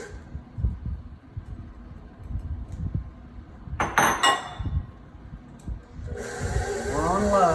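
A stand mixer running on low stirs peanuts into peanut butter cookie dough, with a low rhythmic churning, a brief burst of clatter mid-way and a rising whir near the end.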